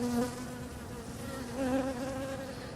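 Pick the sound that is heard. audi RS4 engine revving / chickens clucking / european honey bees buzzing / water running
european honey bees buzzing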